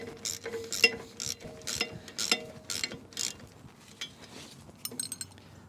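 Mechanical ratcheting clicks in short bursts as blade bolts are seated one by one on a Woodland Mills WC68 wood chipper, close and fairly faint, with brief metallic clinks between pauses.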